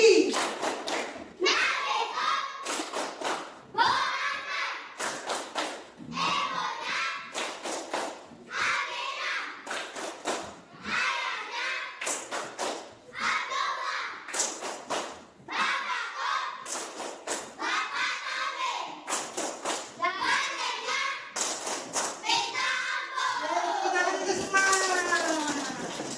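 Group of children standing in a classroom clapping the rhythmic Tepuk Nabi chant, sharp bursts of hand claps in repeated patterns alternating with chanted voices, loud and close throughout.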